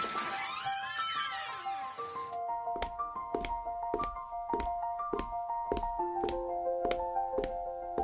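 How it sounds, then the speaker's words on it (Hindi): Footsteps and creaking doors in a room at night inside an old haunted house, from an animated Hindi story: a drawn-out wavering creak for about two seconds, then evenly spaced footstep taps continuing over background music. "अचानक कमरे में कदमों की आवाजें और दरवाजों की चरमराहट सुनाई दी।"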